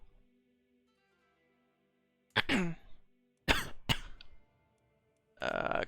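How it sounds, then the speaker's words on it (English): Several harsh coughs land close into a microphone, bursting out in a broken rhythm against near silence during a Crusader Kings III game session. "Coughing into the mic there."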